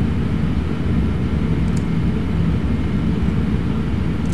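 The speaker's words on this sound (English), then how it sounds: "we'll taxi for about 1 minute, and we'll be in the air" An airliner taxiing in Flight Simulator X: a steady, loud low engine rumble with even broadband hiss, continuous and unchanging, no talking over it.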